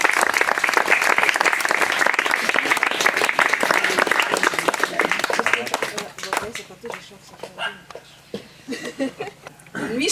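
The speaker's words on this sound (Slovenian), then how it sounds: "Mislim, da si zaslužita aplavz." Audience applause at an award presentation during a St. James feast celebration on Nanos, a dense steady wash of clapping that thins out after about six seconds into scattered claps.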